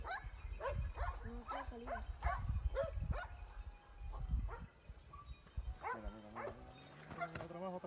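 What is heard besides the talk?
hunting dogs barking below cliff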